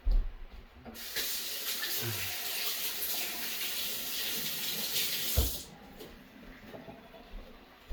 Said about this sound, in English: Clean my hands up just a little bit.